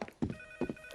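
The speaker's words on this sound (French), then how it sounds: "Oh, le téléphone." A telephone ringing in a cartoon house, a steady electronic tone behind two soft thumping bursts of movement, fairly faint and close.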